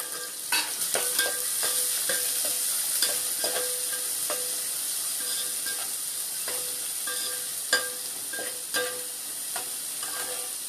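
Onions sautéing in a pan, with the steady bright hiss of oil underneath and a stirring spoon scraping and clinking against the metal at irregular moments. No voices are heard.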